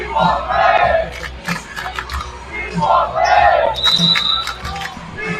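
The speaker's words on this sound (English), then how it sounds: "it looks like even the Shep senior boys team is kind of cheering along" Fans in a high school basketball gym, including the senior boys team, chant and cheer in rhythmic swells at the Totem Hoop Classic, with sneaker squeaks and bounces in between.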